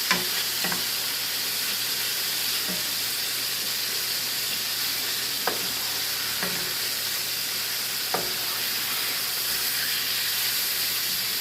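Corn frying in a pan gives a loud, steady hissing sizzle, broken by a few scraping clacks of a utensil as it gets stirred, with no talking.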